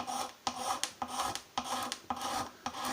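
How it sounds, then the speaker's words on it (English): A wooden guitar fretboard being scraped flat with a hand scraper: a steady series of rough, rasping strokes repeating about every half second, close and fairly quiet, with no voices. "Let's start scraping this just now."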